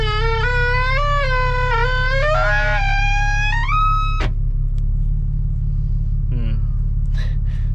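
Car engine rumbling steadily at low pitch while driving on a sunny day, with a tonal whine rising in steps like gear changes, ending in a sharp click and brief squeaks.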